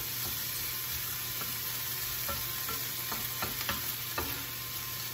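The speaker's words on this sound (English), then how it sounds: "by sauteing your vegetables this way before you add it to the meatloaf" Vegetables for meatloaf sautéing in a pan, a steady low sizzle under a constant background hum, with light intermittent spoon scrapes and taps, close by and without speech.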